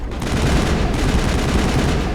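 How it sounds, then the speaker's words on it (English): Assault rifle fire in the video game Mass Effect, with loud, rapid continuous bursts of shots close by and nothing else under it. "inside buildings, assault rifles are ridiculous."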